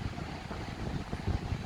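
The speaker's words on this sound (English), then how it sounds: "It was very windy." Steady wind blows along Bondi Beach, Australia, on a summer day, a low continuous rumble buffeting the microphone with no talking.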